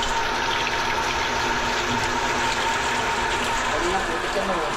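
Water gushing steadily from an old faucet fed by a motor pump, a continuous rushing flow with a mechanical hum underneath, loud and close.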